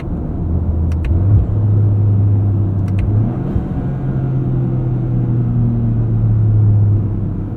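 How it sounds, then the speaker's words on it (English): Toyota GR Corolla with a 1.6-liter turbocharged three-cylinder engine and eight-speed automatic, driving with a steady low engine drone and road rumble heard from inside the cabin, pitch shifting slightly as it pulls. "A lot of boost going through this little motor."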